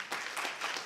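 Audience clapping in a hall at a Tetris regional finals tournament, a short, steady patter of many hands at moderate volume.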